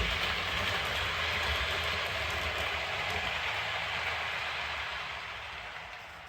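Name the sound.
model Heljan locomotive running on layout track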